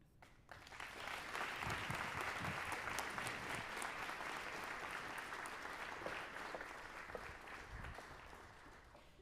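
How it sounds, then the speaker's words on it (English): Sustained audience applause fills a school district's State of the Schools event in Henry County, greeting Superintendent Davis; dense, steady clapping from a large crowd that swells quickly and holds for several seconds before slowly tapering. "Another big round of applause for Superintendent Davis."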